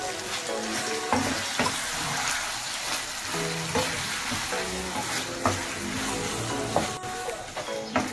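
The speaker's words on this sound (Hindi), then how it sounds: "ये चिली गार्लिक सॉस है, इसके डाल के इसे हम अच्छी तरह से बीच में मिक्स कर लेंगे" Chicken frying in a pan as chili garlic sauce is stirred in gives a loud continuous sizzle, with spatula scrapes and clacks at intervals and a soft voice now and then.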